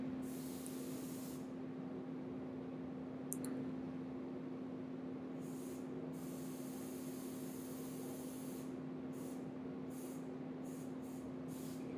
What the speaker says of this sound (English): Now you can see that I can spray from any angle.